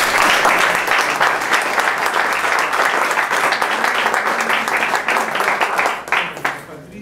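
An audience at a Universidad de Guadalajara lecture gives a sustained round of applause, dense clapping filling the hall for several seconds before it thins and fades out.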